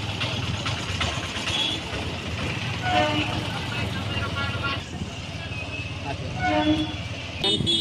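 A train sounds short horn toots at Srikakulam Road railway station in Andhra Pradesh over a rumbling idle and platform bustle, with voices talking throughout, moderately loud and fairly near.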